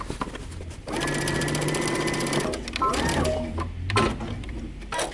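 A sewing machine stitches a dress seam in a fast, steady whir for a few seconds, then stops and starts in short bursts while someone talks over it.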